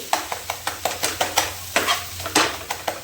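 Spiced masala gravy for stuffed capsicum is sautéed in a pan, a spoon scraping and stirring in a quick regular rhythm of sharp strokes over a steady sizzle, close and fairly loud.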